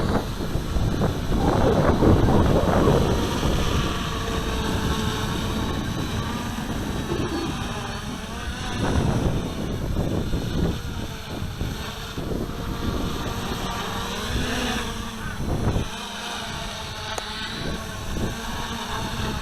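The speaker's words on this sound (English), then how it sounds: "I'll just wait for the wind to drop off just a fraction" Gusty outdoor wind buffets the microphone during the maiden flight of a Q450 quadcopter running APM 2.5 Arducopter, a loud, continuous rushing roar that swells and fades in waves with no talking.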